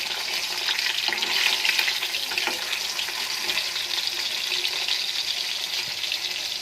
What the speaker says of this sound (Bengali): খুব বেশি একটা ভাজবো না, একটু হালকা করে ভাজবো